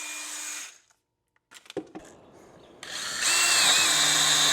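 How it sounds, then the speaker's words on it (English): A compact DeWALT Atomic brushless drill whirs up in short bursts, stopping and restarting with clicks and handling noise between, then running loud and steady at higher speed to the end. "Very compact atomic drill."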